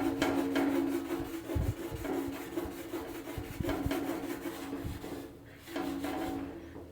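4/0 steel wool scrubs rust from a steel C10 pickup bumper, a steady close-up scratchy rubbing with rhythmic back-and-forth strokes and brief pauses, no talking.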